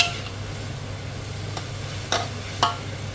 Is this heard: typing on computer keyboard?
no